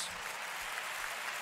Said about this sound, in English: Y quiero que le den un aplauso con alabanza a Jesús.